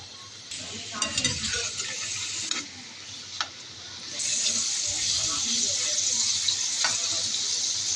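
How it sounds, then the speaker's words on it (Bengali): Salted sausages frying in oil in a pan on a stove: a steady hiss and sizzle with occasional clinks and scrapes, the sizzle growing louder and fuller partway through. "দিয়ে সসেসগুলোকে হালকা করে একটু ভেজে নেব।"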